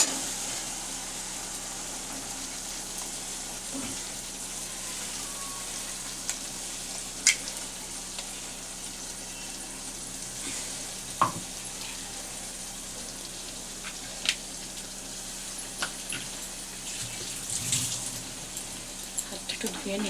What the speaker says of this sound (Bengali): একটা জায়গায় একটু পেঁয়াজ আর কাঁচা লঙ্কা গোল্ডেন করে ভেজে নিচ্ছি।